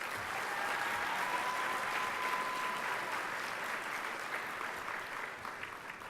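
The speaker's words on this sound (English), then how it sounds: "Another round of applause," Steady audience applause fills a banquet hall at a chamber of commerce awards dinner, many hands clapping evenly for several seconds before tapering slightly at the end.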